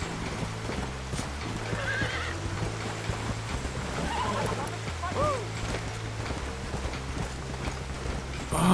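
Steady hoof clip-clop with a horse whinnying partway through, over constant low rumbling background noise, from the video game Red Dead Redemption.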